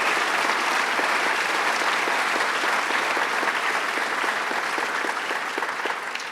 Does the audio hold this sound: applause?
yes